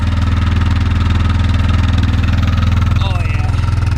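A 2004 Yamaha Kodiak 450 ATV idles loudly and close after a cold start following weeks of sitting, its engine thumping in a fast, even rhythm while someone talks briefly over it.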